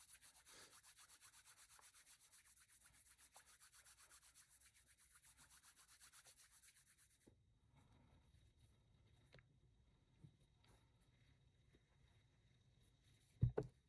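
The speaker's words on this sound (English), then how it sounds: "I'm just going to rub it in my hands." Needle-felting wool rubbed between hands, a soft, steady, faint brushing friction for about seven seconds, then near silence with a brief louder knock at the end.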